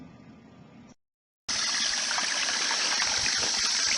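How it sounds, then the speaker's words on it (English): Water trickling from a small creek into a pond, a steady bright rushing flow up close that starts after a short gap of silence following a fainter stretch. "Never seen water flowing into it before"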